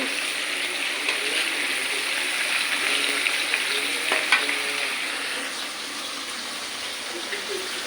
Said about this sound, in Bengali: এই যে কিন্তু মশলাগুলো সুন্দরভাবে কষানো হচ্ছে